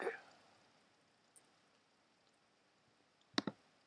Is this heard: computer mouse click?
yes